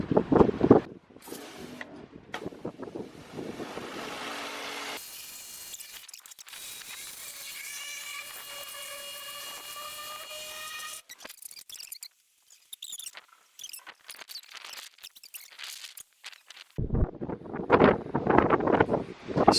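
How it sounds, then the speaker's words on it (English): Strong outdoor wind buffets the microphone beside a Polo GTI track car on a wet day, with gusty rumbling bursts at the start and end and a calmer stretch in the middle. "It's so windy, but the car is clean."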